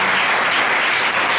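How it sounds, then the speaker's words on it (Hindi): A church congregation breaks into loud, dense applause, a thick unbroken roar of many clapping hands that holds at full strength throughout. "एक बार हम और भी गवाही के लिए और सारी बातों के लिए ताली बजाएं जोरदार।"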